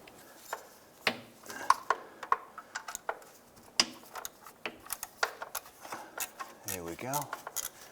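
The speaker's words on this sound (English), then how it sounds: "Get a ratchet on there." Ratchet working loose an upper rear engine mount bolt on a 2001-2005 Honda Civic, heard as short clicking bursts and metallic ticks spread across the clip, with quiet talk in between.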